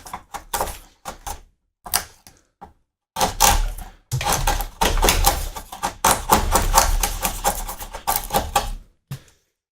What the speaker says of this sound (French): Je vais continuer à enlever au ciseau